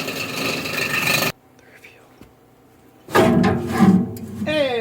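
Plastics granulator shredding 3D prints: a loud harsh grinding burst, a pause of quiet, then the grinding roars back, close and rough, with brief voices in between.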